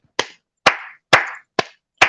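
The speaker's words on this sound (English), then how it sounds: "I got to clap on this one" Five sharp, loud hand claps spaced about half a second apart, each a crisp close slap with a short decay, alone in silence.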